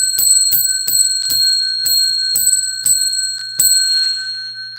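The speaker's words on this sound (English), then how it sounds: "I'm going to ring the bell for you, okay?" A bright metal bell is struck repeatedly in a steady rhythm, about ten sharp rings spaced under half a second apart, loud and close, each leaving a ringing tone that carries between strikes.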